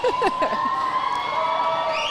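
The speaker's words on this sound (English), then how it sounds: "we hear the crowd getting loud" Crowd noise swells at a girls' varsity high school swim meet, with high cheers, whoops and shouting close by, a busy, steady roar with a few sharp calls rising above it.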